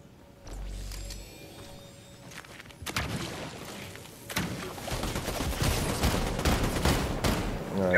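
Fortnite gunfire: a few sharp shots ring out, followed by a rising flurry of rapid, overlapping gunshots and impacts that grows louder toward the end, with occasional muffled voices.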